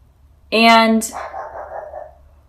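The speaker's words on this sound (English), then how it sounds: "I don't know why my dog is barking" One loud, close dog bark, a sharp yip followed by a trailing breathy whine, against a quiet background.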